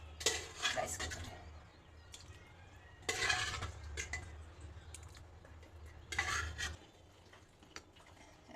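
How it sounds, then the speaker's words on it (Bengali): Mutton pieces being put into a rice cooker pot for kacchi biryani, with several bursts of clattering, scraping metal and utensil clinks separated by quieter pauses, close by. "মাংসগুলো দিয়ে দেবো রাইস কুকারে"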